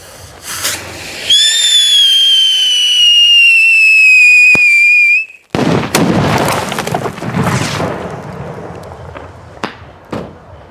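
A whistling Impacto firecracker gives a loud, steady, slowly falling shriek lasting several seconds, then bursts with a sharp explosion followed by crackling and scattered pops nearby.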